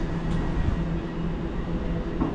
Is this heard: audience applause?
no